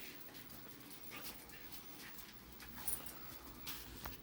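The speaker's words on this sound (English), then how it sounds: "I got a couple of whining dogs though." A couple of dogs whine faintly in a room, thin high whimpers coming and going over low indoor background noise with no talk.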